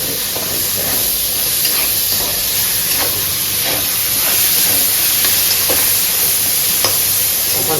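Onions fry in oil in a pan with a loud, steady hiss and sizzle, close up and uninterrupted, with light stirring crackles.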